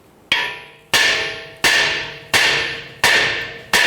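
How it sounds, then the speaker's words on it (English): A hammer strikes the steering knuckle of a 2009–2015 Honda Pilot to free the ball joint: six loud, close metallic blows in a steady rhythm, each ringing out before the next. "Let's go ahead and strike that knuckle and see if we can get that ball joint to release."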